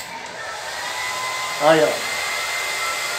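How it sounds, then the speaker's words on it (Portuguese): A hair dryer runs steadily at close range with a constant broadband whoosh, aimed at a PlayStation 4 console, while a brief voice cuts in mid-way. "Vou ligar aqui na tomada o secador."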